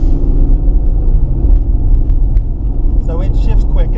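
A 2006 Infiniti G35x with 200,000 miles accelerates hard from inside the cabin, a steady loud engine and road rumble throughout, with a person talking over it near the end.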